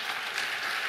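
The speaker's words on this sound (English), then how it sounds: "let me invite to all of you to give the big round of applause to our great panelists" Audience applause for conference panelists at a plenary session, a dense, steady wash of many hands clapping throughout, fairly loud and even with no break.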